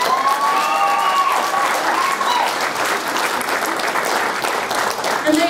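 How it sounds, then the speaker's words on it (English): Audience applause at the 2012 Little Mr. Toppenish pageant for the contestants, a steady, full round of clapping from a crowd that holds throughout, with a few brief vocal sounds mixed in. "Let's give them a big round of applause"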